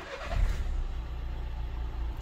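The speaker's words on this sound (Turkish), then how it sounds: "Şöyle hemen aracı çalıştıralım." A Renault Megane 4 engine turns over and settles quickly into a low, steady idle heard close up.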